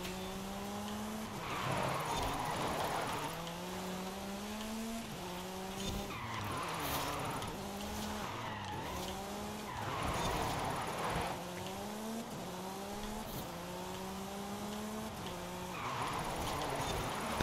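In Forza Horizon 5, a Porsche skids repeatedly, with engine notes climbing through gear after gear in rhythmic bursts about every four seconds, along with tyre noise, heard at a moderate level and without talk.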